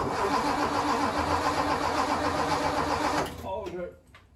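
A 1957 Ford Thunderbird engine cranks and catches, giving a loud, steady, churning roar for about three seconds before it drops off and sputters down, with voices nearby.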